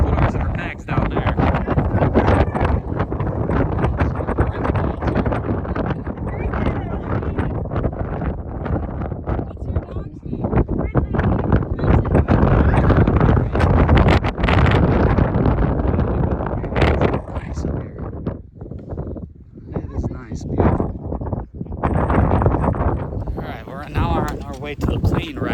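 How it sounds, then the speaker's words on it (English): Strong, gusty wind on a mountain summit in the Adirondack MacIntyre Range buffets the microphone in loud, uneven rumbling bursts that rise and fall throughout. "Got a little windy real quick"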